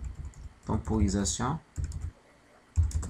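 Code typed on a computer keyboard, soft clattering key presses in short bursts beneath someone speaking.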